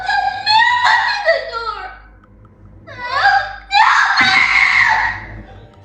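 A frightened young boy screams and wails, calling for his mother in loud, strained, drawn-out cries. One burst is followed by a short pause, then two more bursts.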